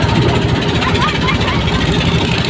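The engine of a fishing trawler boat throbs loudly and steadily close by as it passes behind on the water, with a low, knocking rumble that lasts throughout.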